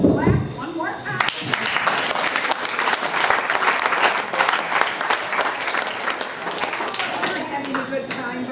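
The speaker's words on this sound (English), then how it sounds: "let's clap one more time" A crowd at a candidate forum breaks into sustained clapping after a short spoken opening, loud and dense with scattered individual claps throughout.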